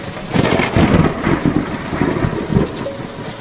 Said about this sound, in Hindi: वही तूफानी बारिश शुरू हो चुकी थी।